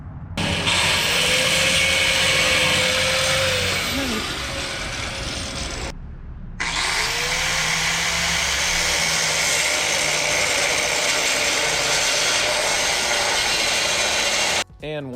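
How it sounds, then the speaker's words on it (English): A power tool cuts through a rounded exhaust nut on a MKIV Supra in two long, loud, close grinding bursts with a whining pitch, broken by a short pause, then cut off abruptly near the end. "once we cut the nut off that bolt, it slid right out."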